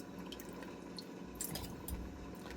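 Tomato sauce with skins left on is ladled into quart canning jars for water bath canning, making soft continuous liquid pouring and dripping with faint clinks, steady and close, no talk.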